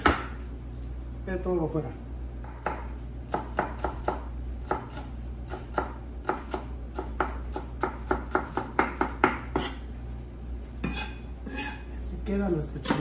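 Knife on a cutting board trimming and deseeding a serrano chili, a steady series of close, sharp taps and scrapes with occasional clinks, while someone speaks briefly in Spanish.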